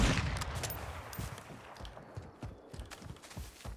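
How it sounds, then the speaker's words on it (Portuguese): Gunfire in the video game Call of Duty: Warzone 2.0, a rapid string of sharp shots and bursts, fairly faint and distant, in an otherwise quiet game scene without voices. "Tem alguém dando tiro aqui também"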